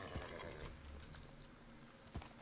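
Horse in the Minecraft modpack Agrarian Skies, heard as a game-audio snort or whinny at the start and another near the end, with faint clip-clop and ambient game noise in between, no talk.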